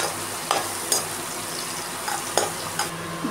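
Green chillies are stirred in a hot pan, a low sizzle underneath a few sharp spoon-on-metal clinks and scrapes spaced irregularly, close by.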